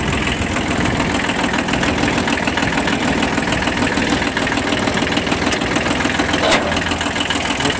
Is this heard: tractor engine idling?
yes